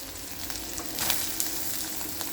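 Onion with ginger-garlic paste frying in oil, a soft continuous close sizzle with a few faint crackles and light stirring sounds, no voices.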